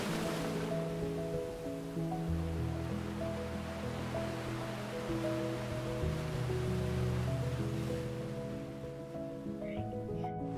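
Ocean waves wash onto the Arabian Sea beach at Gokarna in a continuous broad roar, with steady background music playing over the surf.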